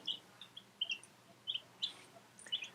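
Baby chicks chirp in a series of high, short peeps scattered irregularly over a low background hum, fairly faint, with no talk over them.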